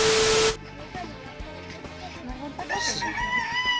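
A rooster crows outdoors in the Philippines during a lockdown, a faint, drawn-out call heard after a short loud hiss, with people talking nearby.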